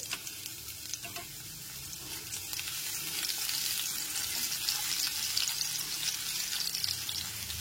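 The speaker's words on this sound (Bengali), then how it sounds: "এরপর এর মধ্যে দিয়ে দিচ্ছি 1 টেবিল চামচ রসুন কুচি।" Chopped, lightly crushed garlic sizzles in hot oil with tempering spices over a low flame while being stirred for a spring onion dish, a steady close frying hiss that grows slightly louder, with no talk.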